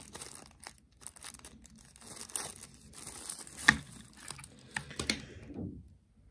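A small plastic bag from a Powerway Voice Ball portable Bluetooth speaker box is opened close up, with irregular crinkling and tearing rustles and a few sharper crackles, ending in quiet.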